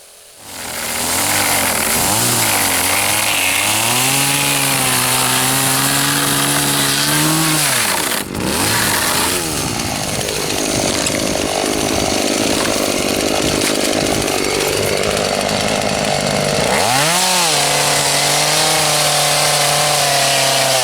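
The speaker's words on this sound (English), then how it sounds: "chainsaw has not been started in over a year" A chainsaw that has not been started in over a year catches and roars close up, revving hard, dropping briefly, then racing back up to a loud, buzzing whine.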